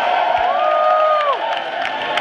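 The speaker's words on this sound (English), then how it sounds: "so give that man a round of applause" Crowd cheering and whooping at a live Tycho concert at The Independent in San Francisco, a sustained dense roar with a rising whistle-like cry cutting through, steady and loud throughout.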